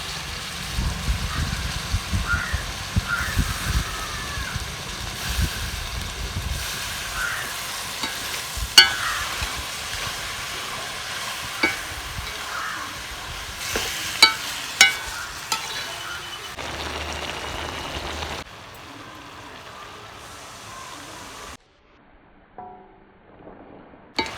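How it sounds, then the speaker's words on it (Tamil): Half a kilo of mutton is sautéed and stirred in a pan, with a steady close sizzle under repeated scraping strokes and occasional sharp clinks of the utensil, the frying fading out near the end, and no talking. "அதையும் போட்டு நல்லா வணக்கிக்கலாம்."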